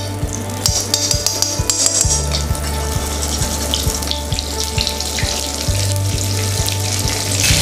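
Spice paste frying in white oil in a wok for paneer butter masala, a steady close sizzle with scattered crackles and occasional clinks, and a regular low electrical hum running underneath.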